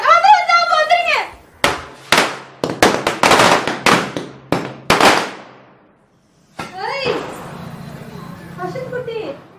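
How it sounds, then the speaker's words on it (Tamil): Diwali firecrackers go off in a quick run of sharp, loud bangs with irregular spacing, and people talk before and after the bursts. "கையிலே வந்து பட்டாசு வெடிக்க போகிறேன்ட்டு வத்தி வச்சுக்கிட்டு பட்டாசு கையிலே பிடிச்சி போட்டுட்டு இருந்தாங்க"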